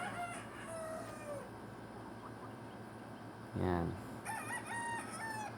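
A young gamecock, about three months old, crows once at moderate distance over steady yard background noise, with other rooster calls and a voice around it.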